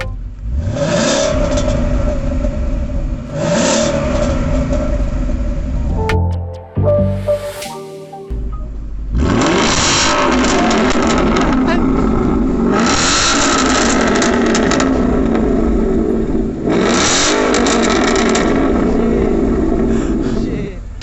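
A Ford Mustang with an aftermarket valved exhaust revs hard in repeated bursts, loud deep roaring blips rising and falling, with a brief quieter pause and a short high whine midway before the revving resumes.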